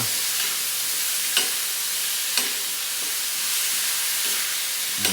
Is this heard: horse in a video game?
no